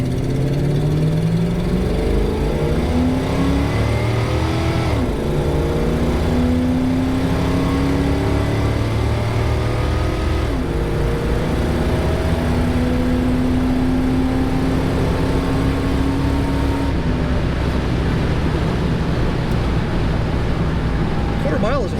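Engine of a 1979 Chrysler Cordoba revving and pulling hard from first gear, with rising and falling pitch sweeps as it accelerates, loud and steady inside the car, with a few words spoken over the engine.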